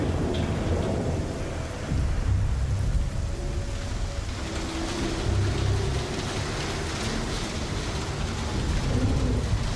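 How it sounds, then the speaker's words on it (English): Heavy rain and rumbling thunder in a Star Citizen thunderstorm on the Genesis weather update, a steady dense downpour with deep thunder swelling throughout, loud and continuous. "Look at that rain, man. That is beautiful."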